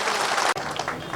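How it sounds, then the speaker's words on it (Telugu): Thin, scattered applause from a small audience at a rural doctors' federation meeting in Vijayawada, a steady patter of claps with a brief break midway. "చాలా తక్కువ చప్పట్లు వస్తున్నాయి"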